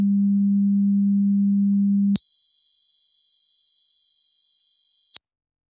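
A low steady sine test tone for loudness comparison holds for about two seconds, then switches abruptly to a much higher pure tone that runs steadily for three seconds before cutting off.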